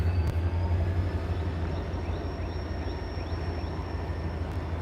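A freight train rolls past close by at a railfan spot, giving a steady, heavy rumble of wagons with faint metallic squeals above it and no pauses or voices.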